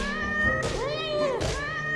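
A cat meows in the video game Curse of the Sea Rats after being punched with an uppercut, giving two drawn-out, pitched wails close up over a steady music bed.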